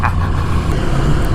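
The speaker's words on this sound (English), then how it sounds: "Alexandria is alive to the sound of V-twin." Ducati V-twin motorcycle engines rumbling as a group rides through Alexandria, Egypt, a steady loud low drone with no talk over it.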